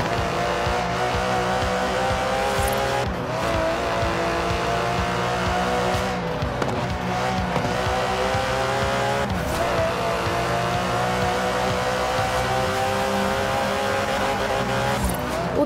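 Aston Martin DB11 with a 5.2-litre V12, driven in the racing game Forza Horizon 4, holds a loud, steady engine drone with rising and falling revs and brief tyre squeals throughout, no voices.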